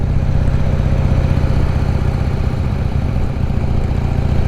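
A motorcycle engine runs steadily while riding on a country outing in North Carolina, a loud close low rumble with constant wind-like noise and no talking.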